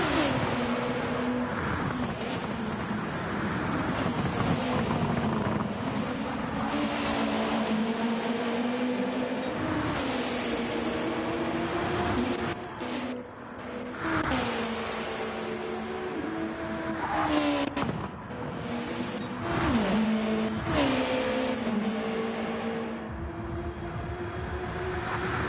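A Pagani GT1 race car engine in a racing game at the Nordschleife, droning loudly with rising and falling pitch as it accelerates, shifts and runs in another car's slipstream, continuous throughout.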